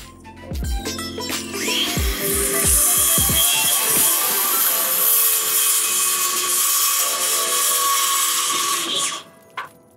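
Pallet wood pieces being sawn for a vertical garden build: a few sharp knocks at the start, then a loud, steady, rasping cut that runs for several seconds before stopping abruptly, with no voices.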